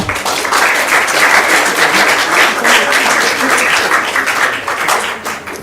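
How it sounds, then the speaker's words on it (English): A large crowd applauds steadily, dense clapping filling the whole stretch at a loud, even level with no voices. "Please give a whole big round of applause to Mr. Shiv Khenka."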